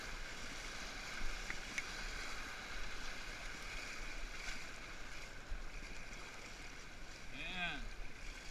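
Kayak paddling through river rapids at Scotts Rapids on the St Croix River, a faint steady rush of moving water around the boat with light splashing, quiet and continuous.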